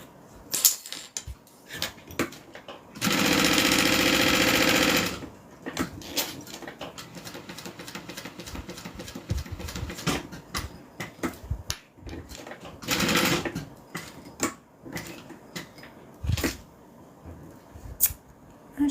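A sewing machine stitching thread, with two loud sustained whirring bursts of running motor and needle, then quieter clicking and handling sounds close by, with no talk.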